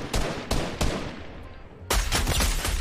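Video game gunfire: several sharp, separate shots ring out, then after a short lull a rapid, dense burst of firing follows, loud and close throughout.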